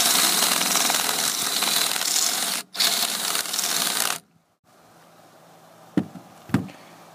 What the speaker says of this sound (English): I'm using a cordless drill and a Forstner bit.